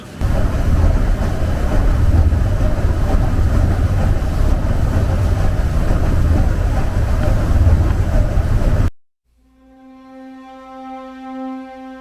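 A paddle steamer's 116-year-old wood-fired Marshall Sons and Company steam engine turning twin paddles gives a loud, continuous churning rumble, then cuts out abruptly and is followed by a clear tonal whistle-like sound.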